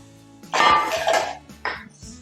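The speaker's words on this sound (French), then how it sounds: "Et je mélange." A spoon or whisk beats crumble batter of whitened eggs, flour and a little baking powder in a bowl, making a few close, loud scraping and clinking bursts separated by short pauses.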